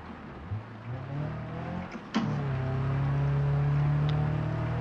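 A rally car in the BeamNG.drive driving game runs back onto gravel, its engine holding a steady, fairly loud drone with a single sharp knock partway through and no talking.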